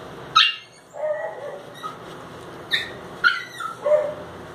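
Several dogs yip, bark and whimper in short separate bursts at close range in a home, with no talk over them.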